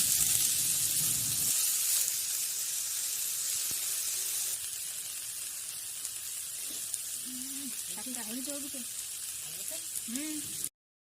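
Bottle gourd greens frying with garlic in a pan, a steady hissing sizzle that softens partway through, while a person talks over it toward the end.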